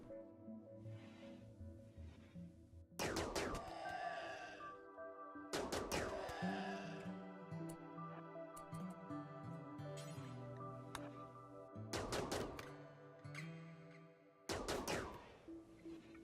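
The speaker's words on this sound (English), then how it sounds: "He's getting a lot of practice with his shooting." A colonist fires a gun in RimWorld: four sharp, separate bursts of gunfire a few seconds apart, each with a bright crack and short tail, over a quiet background hum.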